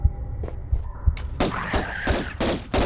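Explosions in the Tomb Raider video game level Atlantean Stronghold: several low, thudding booms in succession, with a sharper, louder blast midway that spreads into a rough rumble, no voices present.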